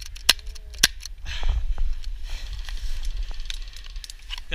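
Airsoft gun at an outdoor field firing two sharp close snaps early on, followed by softer scattered pops and rustling in the distance.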